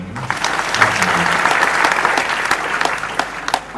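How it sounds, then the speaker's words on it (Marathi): Sustained audience applause at a temple puja for a Mahashivratri Rudra Puja gathering, a dense, loud burst of many hands clapping that holds steady for several seconds. "जोरदार टाळ्या वाजवा."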